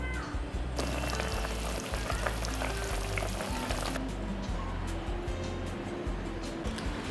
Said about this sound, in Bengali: তেঁতুল দিয়ে মাছের টক রেডি। আর একবার ফুটে যাক, নামিয়ে দেবো।